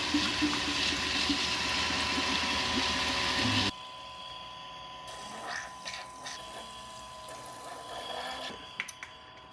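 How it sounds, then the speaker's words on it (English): A water cooling pump in a DIY gaming PC loop churns and gurgles liquid with bubbles for several seconds, loud and close, then drops off to a quieter hum with faint clicks and rattles. "There's the pump."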